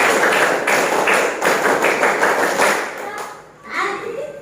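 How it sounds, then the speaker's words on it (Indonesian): A group of children performs a rhythmic scout clap, a tepuk pramuka, in a steady patterned series of loud claps, with children's voices mixed through the clapping and a brief lull near the end. "kalian tepuk pramuka satu kali, coba"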